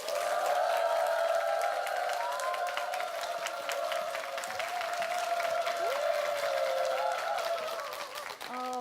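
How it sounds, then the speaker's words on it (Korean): Studio audience at a televised Korean lecture claps to welcome the speaker, a sustained, even round of applause with a tonal music layer running beneath it before fading at the close. "큰 박수로 맞아주시기 바랍니다"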